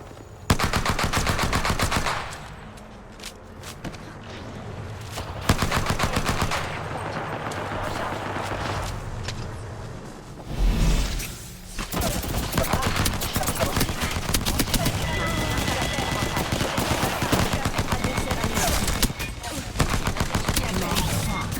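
Sustained automatic gunfire in the video game Apex Legends, dense rapid bursts that rattle almost continuously with brief pauses, loud and close, with game sounds and a voice mixed in.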